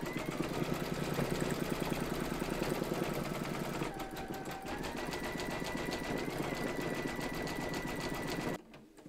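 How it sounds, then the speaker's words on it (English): An embroidery sewing machine satin-stitches the edge of a buttonhole on an in-the-hoop towel topper, a steady fast mechanical whirring chatter running loud and continuous before stopping abruptly at the end. "that's going to do the satin stitching around the edge of the buttonhole"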